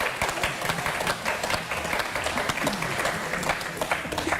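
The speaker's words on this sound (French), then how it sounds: "Faut bien applaudir." Crowd applause at a lively gathering, dense close clapping that stays loud and continuous throughout, with faint voices mixed in.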